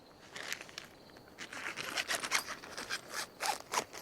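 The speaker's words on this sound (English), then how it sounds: "That is zipper one." Zipper on the door of an Ozark Trail 3 person A-frame tent being opened, a continuous scratchy rasp with uneven pulls and brief pauses, close up, with fabric rustling.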